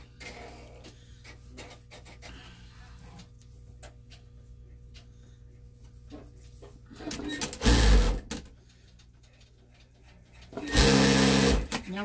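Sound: sewing machine sewing around a Santa bag

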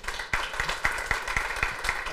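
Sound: audience applause for speakers

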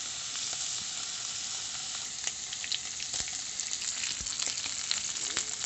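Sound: pork fat frying in a pan

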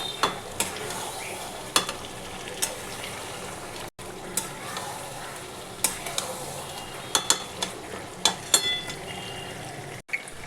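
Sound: mutton and papaya korma being stir-fried

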